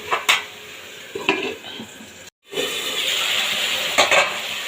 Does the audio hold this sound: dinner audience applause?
no